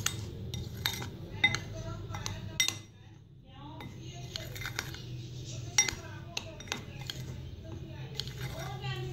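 A spoon mixes semolina and flour in a bowl for semolina laddoos, giving repeated close clinks and scrapes against the bowl with brief pauses in between.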